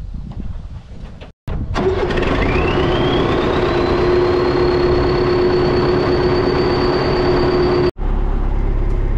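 A tractor engine cranks, catches and settles into a loud, steady idle with a rising whine, running close and unbroken for several seconds before a sudden cut.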